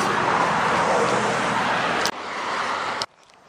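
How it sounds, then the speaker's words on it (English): Roadside traffic noise, cars rushing past with a broad steady roar near a hiking route, one vehicle sweeping by and then another before it cuts off to quiet background. "cars are now on my left."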